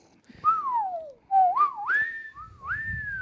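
Several people whistle in turn, each a clear, sliding, bird-like tone with rising and falling pitch, close and loud, separated by brief pauses with some background rumble.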